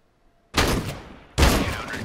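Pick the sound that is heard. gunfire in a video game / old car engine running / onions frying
gunfire in a video game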